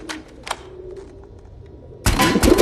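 A bird coos softly in the background, then a sudden loud, noisy gunshot burst cuts in near the end.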